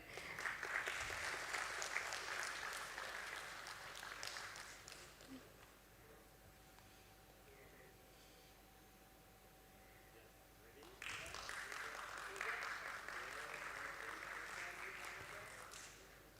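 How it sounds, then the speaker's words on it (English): An audience at a stock exchange listing ceremony applauds in two bursts of clapping separated by a quieter stretch with a faint steady tone and room murmur. The whole scene is distant and low in level. "Ladies and gentlemen, we can clap for them."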